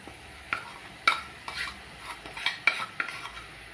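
A spoon stirs avoli (pomfret) fish curry masala in a pan, giving a few soft scraping clinks at irregular intervals, close and fairly quiet, with no talk.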